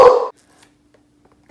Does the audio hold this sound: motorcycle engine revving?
no